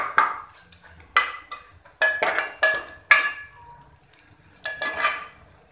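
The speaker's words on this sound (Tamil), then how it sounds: "இது கொஞ்சம் திக்காக தான் இருக்கும், கொஞ்சம் நம்ம தான் நல்லா கிண்டி விடணும்." A thick paste of peanut, ginger and green chili is stirred in a pan for kichadi, heard as bursts of scraping and clinking from a spoon working through it, with quiet gaps between strokes and no talk.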